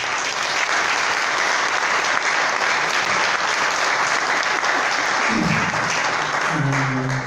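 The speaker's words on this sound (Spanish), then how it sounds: "Un aplauso para don Paviche." Sustained applause from an audience at a club presentation event in Tepa, steady clapping throughout, with a brief voice or tone near the end.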